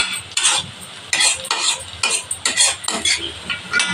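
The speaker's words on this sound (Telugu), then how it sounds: "అల్లం వెల్లిగడ్డ వేసుకున్నాం చూడండి మంచి ఫ్రై అయింది" Chicken pieces frying in a pan with ginger-garlic paste for a roasted chicken curry, stirred with a spoon in repeated scraping strokes over a steady sizzle, close and fairly loud, with no talking.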